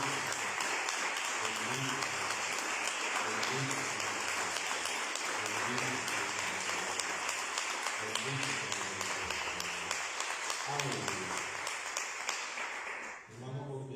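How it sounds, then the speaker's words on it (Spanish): A church congregation applauds for Christ in a steady, sustained wash of clapping, with low murmuring voices and faint musical tones underneath, fading out near the end. "¿Quiere darle un aplauso a Cristo?"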